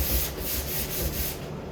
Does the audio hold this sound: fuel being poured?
no